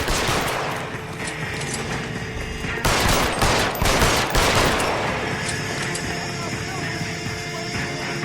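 Gunshots in the video game L.A. Noire ring out as a loud cluster of rapid cracks in the middle, set against continuous game ambience and engine-like rumble.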